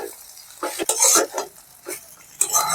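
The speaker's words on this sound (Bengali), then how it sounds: "দিয়ে একসঙ্গে এবার এটাকে ভালো করে আমি মিশিয়ে নেব" A spatula works peanuts into flattened rice pulao in a pan, giving irregular scraping strokes and clinks with soft sizzling between, close and fairly loud, in uneven bursts with no talking.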